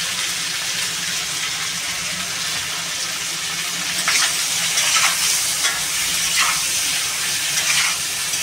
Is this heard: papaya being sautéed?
yes